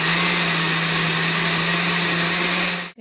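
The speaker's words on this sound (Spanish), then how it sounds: "vamos a licuar todo nuestro jugo" A kitchen blender whirs loudly and steadily, blending a pineapple and rice juice with clove and cinnamon, then cuts off sharply just before the end.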